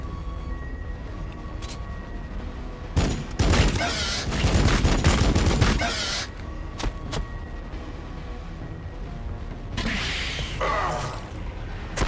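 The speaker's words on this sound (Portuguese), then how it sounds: "Tomaram muitos tiros." Gunfire in the strategy game Warhammer 40k Battlesector, with a few-second burst of rapid shots, scattered single reports, and a second volley near the end over a quiet game soundscape.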